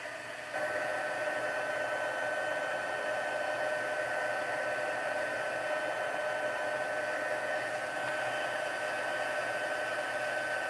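A hair dryer blows steadily on a handmade craft card, a loud continuous whooshing hum that starts after a brief pause and runs unbroken to the end.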